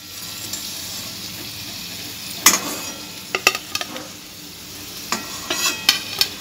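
An egg-lookalike snack fries in a pan of oil with a soft, steady sizzle, broken by sharp clinks and scrapes of a utensil stirring and lifting the pieces.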